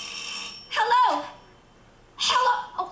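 A telephone rings in a radio drama, two warbling electronic bursts about a second apart, loud and close, with a pause between them.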